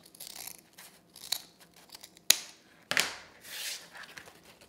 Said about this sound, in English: I'm going to cut along that folded edge